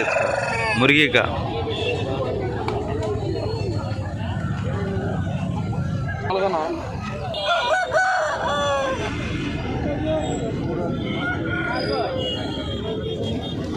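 Roosters crow and hens cluck among caged country chickens at a weekly market in Nallapadu, repeated loud calls ringing out over constant bargaining voices and crowd babble, with a car passing in the background.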